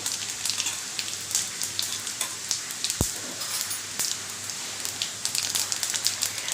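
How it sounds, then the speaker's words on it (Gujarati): Whole cloves, a piece of cinnamon, bay leaf and cumin seeds sizzling in hot oil for a dal fry, a dense crackling, spitting sizzle with one sharp knock partway through, close and steady. "ચાર લવિંગને તજનો ટુકડો લીધેલો એ આપણે વઘારમાં પહેલાં મૂકી દઈશું તમાલપત્ર પણ મૂકી દઈશું"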